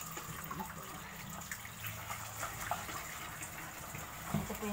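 Water runs steadily from a tap in a continuous soft gush while vegetables are washed, with faint handling sounds and occasional quiet talking underneath.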